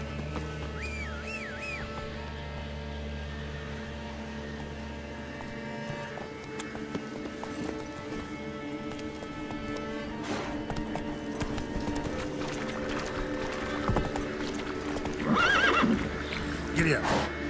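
Horse in The Witcher 3 video game, neighing and whinnying with clip-clop hooves under a continuous musical score, while someone talks over it throughout.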